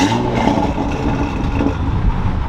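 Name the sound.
car engine startup with stock catback exhaust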